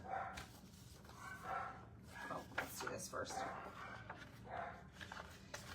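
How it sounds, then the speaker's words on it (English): Dogs bark in the background, several intermittent barks at moderate distance beneath someone talking in a quilting session indoors. "Don't mind the dogs."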